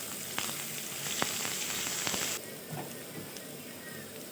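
Chopped onions fry in hot oil until browned for a banana-flower ghonto, a steady sizzle with a few short crackles and spatters, close by, with the hiss softening partway through and no talking.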